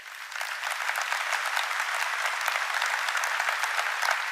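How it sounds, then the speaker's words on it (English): An audience at a tech summit applauds the NVIDIA founder and CEO with steady, dense clapping that holds loud and even throughout, with no voices over it. "Please give him a big round of applause."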